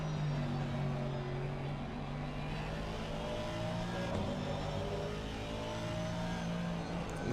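A Mercedes race car at Suzuka in Assetto Corsa Competizione holds a loud, sustained engine drone, pitch climbing slowly with a couple of gear shifts, other cars' engines faintly layered beneath.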